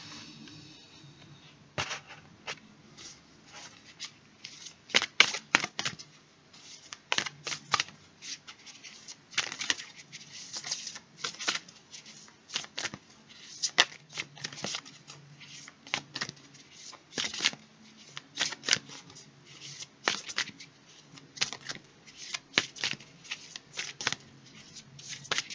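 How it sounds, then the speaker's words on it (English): Tarot cards are shuffled by hand in a long series of crisp riffling bursts and soft slaps, some louder than others, with brief pauses between them and no talking. "Alright, Aquarius, so let's get shuffling."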